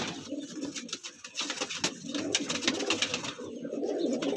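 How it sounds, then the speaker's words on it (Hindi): White pigeons coo in a loft, soft low burbling calls repeating close by with small rustles and clicks between them, and no talking. "बहुत नया कबूतर है"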